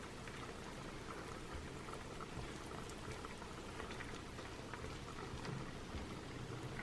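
An egg cooks on a Dash mini griddle, giving a quiet, steady sizzle and faint crackle that continues evenly throughout.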